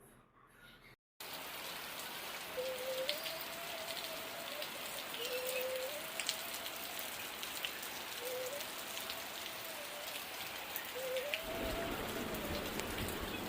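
Heavy rain falls in a steady, dense wash of drops after a brief silent start, with a faint high whistling tone recurring every few seconds over the downpour.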